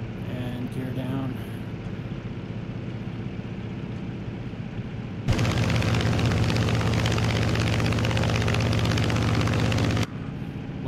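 The propeller engine of an F6F Hellcat in a flight simulator game drones steadily at close range, then swells abruptly to a louder, rougher roar before dropping back near the end, with no talking.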